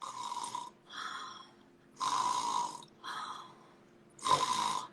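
A voice imitates regular snoring without choking, giving three drawn-out rasping snore sounds at an even pace, each followed by a softer breath, close and alone.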